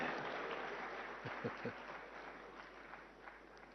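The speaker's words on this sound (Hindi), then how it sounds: "हाँ, अब ताली बजी।" An audience at a conference hall applauds, a broad wash of clapping at moderate distance with a few sharper claps standing out, gradually thinning toward the end.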